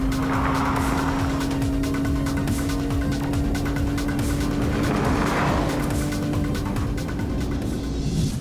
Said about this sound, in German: Noch ein letztes Mal durchbeschleunigen, dann ist die Runde geschafft.